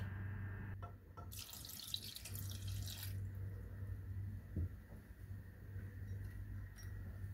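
Orange juice is poured from a glass over apricots in a cooking pan, a faint trickling splash that lasts about two seconds over a steady low hum, with no voices.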